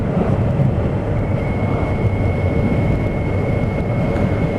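A Honda CBF600SA motorcycle on the road gives a steady, loud roar of engine and wind noise with no clear rise or fall, and no talking.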